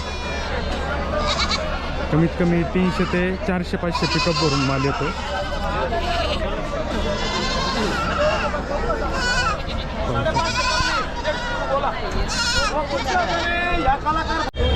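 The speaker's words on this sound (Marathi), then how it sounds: "शेळ्या पाहू शकाल एकदम क्वालिटी क्वालिटीमध्ये शेळ्या आहेत" Goats bleat repeatedly at the crowded Chakan goat and sheep market, loud and close, their cries overlapping with someone speaking and a busy background murmur of people.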